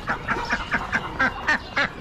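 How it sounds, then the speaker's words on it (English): Muscovy ducks at an Amish animal auction give a steady series of raspy, nasal calls, roughly four per second, close and clear over faint barn noise. "Some muscovies."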